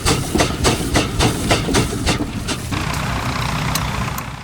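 A steam traction engine running short of steam chuffs in a steady rhythmic beat of exhaust puffs, then falls quiet into a continuous hiss.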